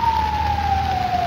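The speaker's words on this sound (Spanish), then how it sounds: "Y se va la ambulancia" An ambulance siren carrying an injured woman to hospital after a street crash in Tuxpan, Veracruz, holds a single slowly falling tone as the vehicle pulls away, moderately loud over a steady hum of traffic.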